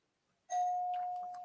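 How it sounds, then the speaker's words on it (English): A doorbell rings inside an apartment, one clear sustained chime tone that starts abruptly after a brief quiet and slowly fades, with faint household sounds behind it. "there's the doorbell."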